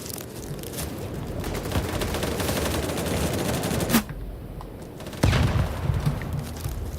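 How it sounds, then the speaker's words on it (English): Sustained gunfire from the video game BattleBit, dense overlapping bursts of automatic fire and shots, loud and continuous with a brief lull before heavy firing resumes. "So is someone shooting at me?"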